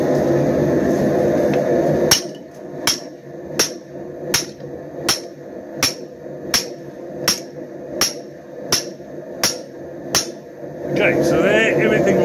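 Hammer blows ring on hot metal being forged into a bottle opener, about a dozen evenly spaced strikes in a steady rhythm, with people talking before and after the hammering.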